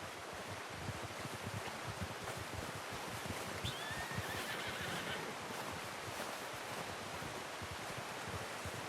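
A horse whinnies in Red Dead Redemption 2 during an outdoor hunting trip, a thin rising neigh in the middle of a steady wind-like outdoor wash, with soft hoof clops underneath and no talk.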